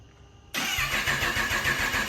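A 2023 vehicle with its catalytic converter removed starts up after half a second of near silence, catching abruptly into a loud, deep, throbbing exhaust idle with a steady pulsing rhythm, close by.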